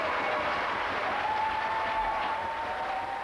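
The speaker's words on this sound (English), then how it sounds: "Then George Innes chopped up the first home victory to a resounding cheer." Applause and cheering from a home crowd at a Scottish table tennis club match after a home win, a dense, steady burst of clapping throughout.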